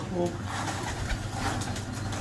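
Pigeons coo softly in a loft kept by a hobbyist pigeon fancier, low burbling calls in the background while someone talks over them throughout.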